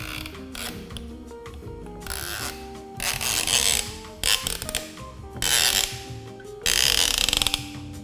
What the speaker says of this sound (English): Once you start hearing the clicks, it means you're getting closer